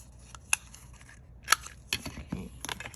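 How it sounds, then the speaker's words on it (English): Scissors trim around the corners of a paper tag in a few crisp, separate snips, close and quiet, with soft handling noises between cuts. "I'm gonna trim around the corners."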